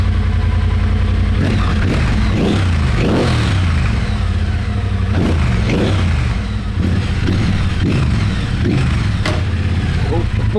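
A custom bobber motorcycle's engine revs in repeated short bursts through new silencers, loud and close, each blip rising and dropping back to a rough idle.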